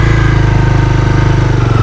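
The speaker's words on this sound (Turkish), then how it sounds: "Evet motosikleti birinci vitese aldık ve motosikletin kavrama noktası gelince biraz da gaz verdik." A manual-gear motorcycle pulls away in first gear with light throttle as the clutch engages, giving a loud, close, steady engine thrum with regular pulsing and no speech.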